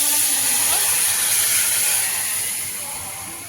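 Steady, loud bubbling hiss of cucumber chutney simmering in oil in a pan, slowly easing off toward the end.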